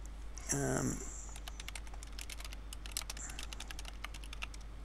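Quiet clicking keystrokes on a computer keyboard, scattered irregular taps over a steady low hum, with a brief voice-like sound near the start.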